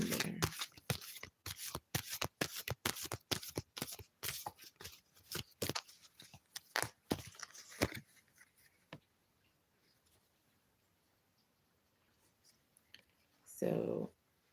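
Angel cards are shuffled in a rapid run of crisp riffling slaps over the first several seconds, then quiet settles with a few faint handling rustles before a final brief burst of shuffling near the end.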